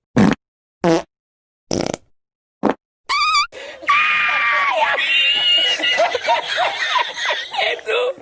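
A voice imitates the high-pitched underwater farts of herring fish: four short squeaky bursts with gaps, followed by a longer stretch of wavering, warbling high-pitched noises.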